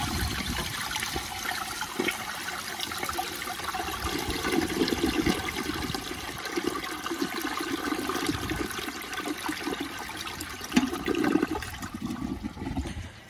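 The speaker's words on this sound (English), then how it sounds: "when it flushes on its normal water line, it does not siphon" A 1978 Eljer toilet with badly rusted, leaking tank bolts flushing: a sustained gurgling rush of water that swirls and drains over several seconds, heard close and alone.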